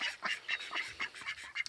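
Several ducks quack repeatedly in the evening near settling chickens, a rapid series of nasal calls close by with steady rhythm throughout, no talking.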